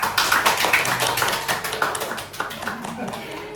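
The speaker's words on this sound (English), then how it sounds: "give a round of applause" Applause from an audience at an achievement ceremony for young English learners, a dense patter of clapping that rises and falls over a few seconds, with a voice talking faintly underneath.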